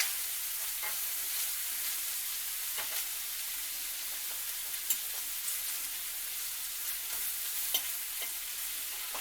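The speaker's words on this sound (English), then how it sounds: "I'm going to turn these shrimp. They're getting just slightly browned on the one side. We'll get them brown, sauteed on the other." Shrimp sizzle as they are turned and sautéed in a pan for lemon garlic shrimp, a steady bright frying hiss throughout with a few soft scrapes and clicks, no talking.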